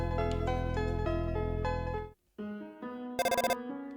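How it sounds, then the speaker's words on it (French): A phone rings in the Undertale video game: a musical ringtone plays for about two seconds, breaks off briefly, then returns with a quick run of bright electronic beeps. "Dring! Allô, Toriel à l'appareil"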